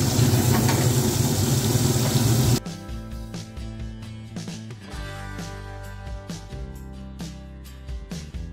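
Venison steak, dry- or wet-aged, searing in a pan as butter goes in: loud, dense sizzling at first, then a quieter crackle with scattered pops and spits.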